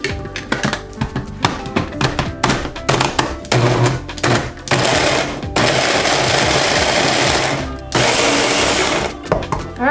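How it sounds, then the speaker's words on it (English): Food processor chopping chunks of bar soap into crumbs, loud whirring bursts started and stopped in short pulses with clattering thunks, then longer continuous runs of grinding motor noise. "I go ahead and start it off so the food processor doesn't have to work that hard"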